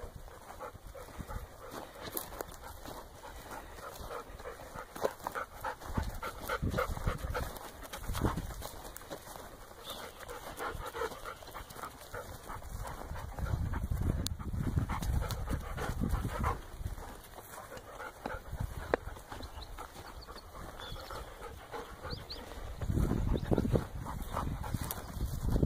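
A fat dog pants softly outdoors on a turkey hunt, a quiet rhythmic breathing that comes and goes over several seconds, with faint birdsong in the background.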